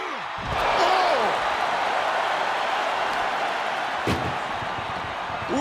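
An ambulance door slams shut in the WWE 2K25 wrestling game, two sharp thuds a few seconds apart over a steady crowd roar.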